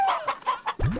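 Hens cluck in the Slime Rancher video game: a quick run of four or five close, loud clucks, then a sharper squawk at the end, with no voices.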